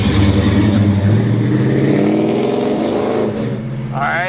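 A 1969 Chevrolet Chevelle big block with a 4-speed roars loudly up close, its deep, rich engine note holding strong and then sliding lower as the revs fall away.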